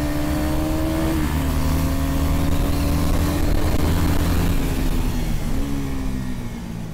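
KTM Duke 390 BS6 motorcycle engine revving, loud and close, pitch rising and dropping through a couple of throttle blips over steady engine rumble, with no talking.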